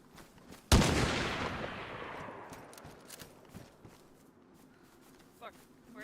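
A single loud gunshot in DayZ cracks out at close range and trails into a long, decaying echo, followed by quieter scattered movement and faint sounds.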